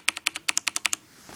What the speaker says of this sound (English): That plastic you're hearing is just it bottoming out.